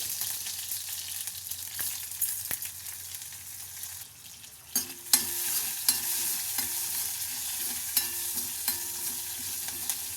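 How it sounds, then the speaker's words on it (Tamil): Mustard seeds, green chilli and urad dal tempering in coconut oil, a steady close sizzle with scattered sharp pops and crackles and a stirring clatter later on. "கொஞ்சம் தேங்காய் எண்ணெய் விட்டுருக்கேன். கடுகு, பச்சை மிளகா, உளுத்தம்பருப்பு"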